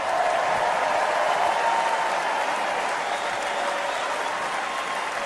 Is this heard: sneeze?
no